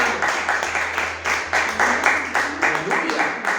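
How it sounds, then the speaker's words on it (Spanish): A church congregation claps together in a steady, rhythmic beat, the dense crowd applause close and loud, holding an even pulse throughout. "Denle un aplauso al Señor"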